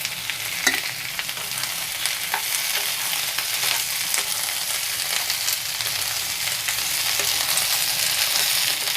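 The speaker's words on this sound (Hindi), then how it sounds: "और हल्का सा हम फ्राई कर देते हैं।" Carrots and capsicum lightly frying in a pan, a continuous close sizzle broken by occasional scraping stir strokes, with no talking.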